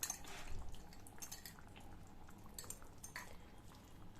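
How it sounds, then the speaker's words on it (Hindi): Beaten curd is poured into a mutton kadai over a low flame and stirred in, with soft wet splatters and light clinks of a utensil against the pan, quiet and close. "जो बीट किया हुआ 1 कप कर्ड है उसे धीरे से इसमें ऐड कर देंगे"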